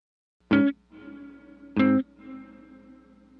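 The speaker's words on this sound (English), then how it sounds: "Here is the reverb without the delay." Two plucked electric guitar notes ring out, each struck sharply then trailing into a soft, dark plate reverb wash without delay that lingers between them.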